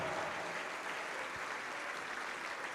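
Steady, dense applause from a church congregation, sustained evenly throughout at moderate distance with no talk over it.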